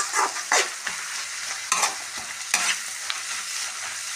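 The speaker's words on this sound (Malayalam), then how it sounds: "നന്നായിട്ട് ഇളക്കി കൊടുക്കാം." Soya chunks, egg and onion stirred in a frying pan, a spoon scraping and clacking in sharp separate strokes over a soft steady sizzle, close up with no voices.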